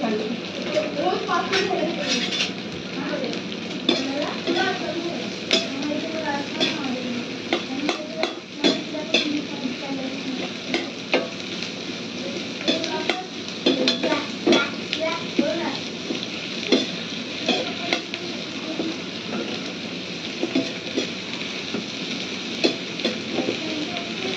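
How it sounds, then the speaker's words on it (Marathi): Cabbage and spring onion tossed and stirred in hot oil for chilli chicken, a steady close sizzle with repeated scraping strokes of a spatula in the pan, while a voice talks over it throughout. "आणि ही पत्तागोबी आणि ही कांद्याची पात हे टाकून घेऊया, मिक्स करून घेऊया।"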